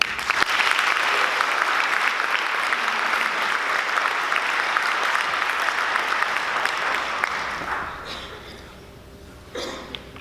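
An audience at a caregivers conference, an Alzheimer's task force event, gives sustained applause for a speaker. The dense clapping runs loud and even for several seconds, then thins and fades near the end.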